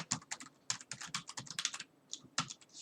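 Steady typing on a computer keyboard, quick clusters of crisp close keystrokes with short pauses, alone and clear.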